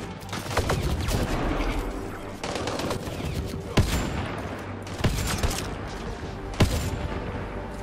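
Rapid bursts of minigun fire in the sci-fi video game Mass Effect Andromeda, dense and continuous with a few sharp louder reports and booms punctuating the barrage.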